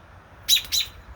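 Mother robin near a nest of newly hatched babies gives two quick, sharp high chirps, close and clear against a quiet background.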